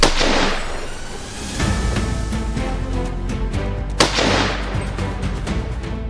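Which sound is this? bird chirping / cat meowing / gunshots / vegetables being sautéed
gunshots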